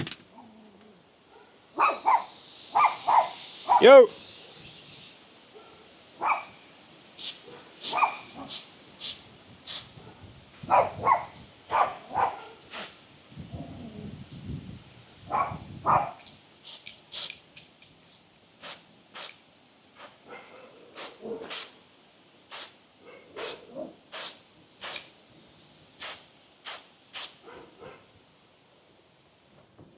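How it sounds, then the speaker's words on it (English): Two dogs barking in repeated bursts, close and loud, with yips and a whimper between barks; someone briefly shouts at them. "As soon as the other dog started barking, he started barking."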